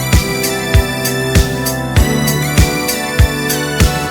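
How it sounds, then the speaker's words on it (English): Producer drum pattern of kick and snare with extra hi-hats added every 4, ticking over a steady looped groove. Hits are close, loud and evenly spaced, with no voices. "You could also add in some extra hats, which I have a couple here, which sounds like this."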